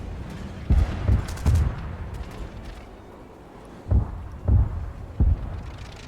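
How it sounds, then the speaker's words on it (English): Ship deck guns firing in an Arma 3 naval battle: two clusters of three deep, booming shots each, spaced apart over a low rumbling background, loud and fairly close. "there's deck guns firing at people"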